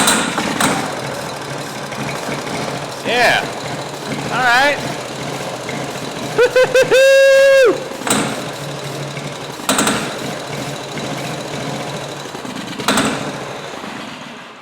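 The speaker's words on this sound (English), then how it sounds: "it sounds good when it's running. I think that hard clanking might be from the ether" An abandoned zero turn mower engine runs with a steady idle and hard clanking knocks, while people talk briefly nearby and a few sharp tonal whines cut through.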